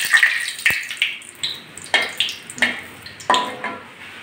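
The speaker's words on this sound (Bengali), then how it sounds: "তেল বসিয়ে দিয়েছি, গরম হয়ে গেছে। প্রথমে আমি একটা শুকনো লঙ্কা আর 3টে তেজপাতা ফোড়ন দিলাম।" Dried red chilli and three bay leaves tempering in hot oil, a steady run of sharp crackling sizzles and pops about every half second, close and fairly loud, with no talking.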